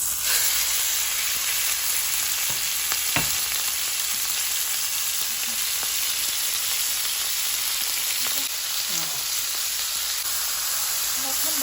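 Beef hitting a hot pan for beef stroganoff, a constant loud hissing sizzle with occasional faint utensil scrapes, close up and unbroken.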